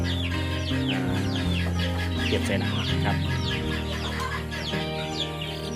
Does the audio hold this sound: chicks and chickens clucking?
yes